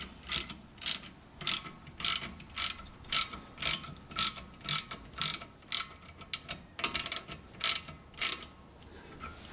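A ratchet wrench tightens a bolt on the rear brake caliper of a Volkswagen Jetta during a brake pad change, a close, loud series of crisp clicking bursts in steady repeated strokes with brief pauses, no talking.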